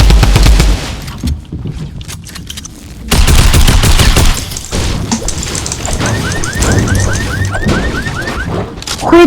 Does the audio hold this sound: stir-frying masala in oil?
no